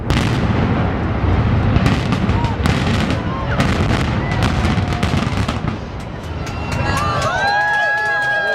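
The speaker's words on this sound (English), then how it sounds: "The explosion collapse of boiler number 1 and electrostatic precipitator number 1" Explosive demolition collapse of boiler number 1 and an electrostatic precipitator at the Sutton power plant in Wilmington: a loud, sustained roar of rumbling blasts and sharp cracks, with crowd noise and whistling, shrieking tones rising near the end.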